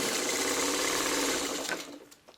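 A sewing machine stitching fabric for traditional Little Rosebuds quilt blocks, a loud steady mechanical whirr of rapid needle strokes that slows and stops near the end, followed by a few faint handling clicks.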